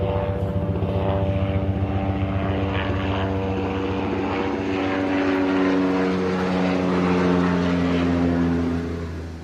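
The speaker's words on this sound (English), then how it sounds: "I think that's a news copter." A news helicopter drones overhead above weedy fields with a steady throbbing rotor and engine hum, loud and continuous, growing slightly stronger before fading at the end.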